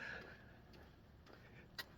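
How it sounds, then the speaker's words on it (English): A single sneeze bursts out sharply at the very end, after a faint sharp inhale. "I'm gonna sneeze"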